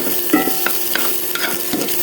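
Chopped ginger and garlic fry in hot oil for a winter-vegetable noodle dish, with a steady sizzle broken by a few sharp clinks and scrapes of a spoon stirring the pan, close and alone.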